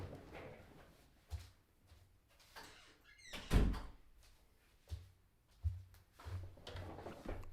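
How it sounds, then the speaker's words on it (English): Indoor door nudged open by a cat, giving a few soft knocks and thunks spread across the clip, with one louder bump in the middle against quiet room tone. "you cannot leave a creak or nothing open on these doors because this cat will try to push himself in"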